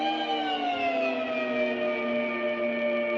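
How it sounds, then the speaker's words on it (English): A guitar pedalboard reverb has its pre-delay swept by an expression slider, producing a sustained, pitch-gliding harmonic wash whose tones slowly bend downward across the whole stretch, steady in loudness with no talking. "you're going to hear how the pre-delay works with an expression slider when it's caught"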